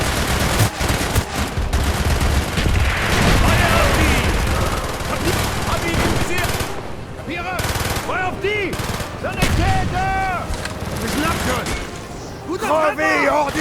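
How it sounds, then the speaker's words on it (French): Mortar blasts and steady gunfire in the World War II combat of Call of Duty: Black Ops, loud and dense throughout, with voices shouting over the battle noise. "Tire de mortier!"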